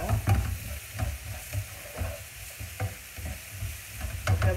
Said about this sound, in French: Donc là, on fait suer nos oignons.